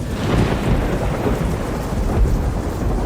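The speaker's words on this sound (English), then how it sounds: "The thunder echoed from Clerval, the Jura, and the Alps of Savoie." Rolling thunder rumbles low and heavy over steady rain falling on surfaces in a dramatized storm, continuous and fairly close with no voices.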